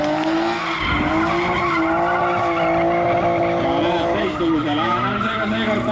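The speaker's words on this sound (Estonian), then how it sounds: "rida 5 turbokas, kuulame seda, vaatame värvilist rehvisuitsu" A turbocharged drift car skids through a run at a drift event, tires squealing in a loud, sustained screech over a droning engine, with crowd or commentator voices mixed beneath.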